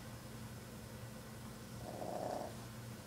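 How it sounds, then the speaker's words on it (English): An old pet cat purrs softly and steadily in a quiet room, a low continuous rumble with a slightly louder breathy stretch partway through. "Say hello to my cat Fuzzy."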